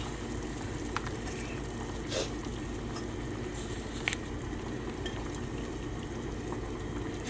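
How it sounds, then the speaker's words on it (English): Pot of water boiling on a home stove while cooking dinner, a faint, steady bubbling hiss with occasional small pops and clicks, continuous and quiet, with no talking. "The pot's boiling, boil."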